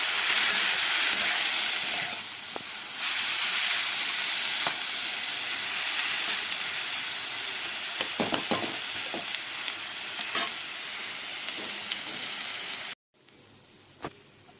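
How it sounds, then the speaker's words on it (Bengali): Loud, steady sizzling hiss of taro leaves frying over low heat, with occasional spatula taps and scrapes, ending in a sudden cut to near quiet and a single knock. "এবারে শাকগুলো সব কিছুর সাথে বেশ খানিকটা সময় ধরে কম আঁচে নাড়াচাড়া করে ভাজা ভাজা করতে হবে।"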